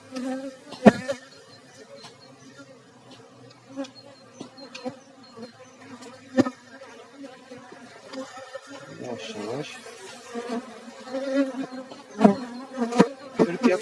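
A low, steady hum of many honeybees buzzing close by at an open hive, with occasional knocks and soft handling sounds and a voice speaking briefly.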